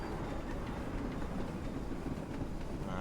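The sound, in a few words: GC wagons running over points in Train Simulator 2019 video game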